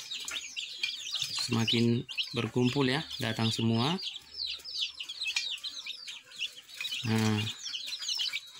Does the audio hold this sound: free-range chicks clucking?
yes